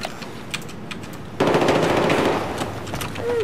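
Rapid automatic gunfire in the video game Battlefield 4 during a competitive 5v5 match, bursting loud and continuous for a couple of seconds after a quieter stretch of distant shots.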